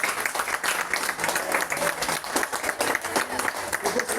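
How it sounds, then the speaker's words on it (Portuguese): A church congregation breaks into applause, dense clapping with an uneven rise and fall that continues for several seconds, with voices mixed in. "Vamos dar uma salva de palmas para o Senhor."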